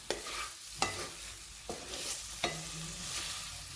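Soyabeans fry in masala paste in a pan while a spatula scrapes and stirs in four sharp strokes spaced about a second apart, over a soft continuous sizzle, with no talking.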